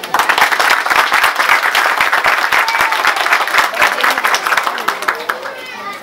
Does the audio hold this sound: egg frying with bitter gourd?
no